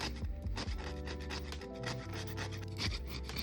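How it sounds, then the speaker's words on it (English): Nutmeg is grated by hand in a kitchen, producing close, rhythmic rasping scrapes in quick repeated strokes with a few brief pauses, fairly quiet and with no talking. "Then we're gonna grate some nutmeg."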